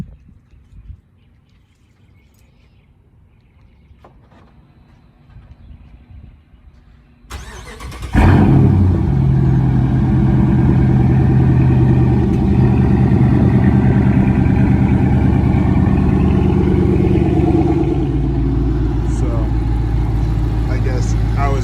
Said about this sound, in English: I'll give you guys a cold start